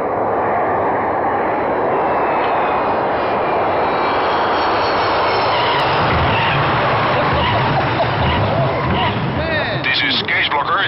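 Airliner cabin during a landing approach, a loud steady roar of aircraft engines and airflow filling the whole stretch, with people talking over the engine noise.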